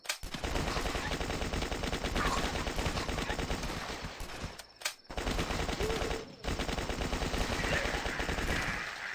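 Sustained rapid M4A1 machine gun fire in the video game The Last Stand, loud and dense, with a brief pause midway before the bursts resume.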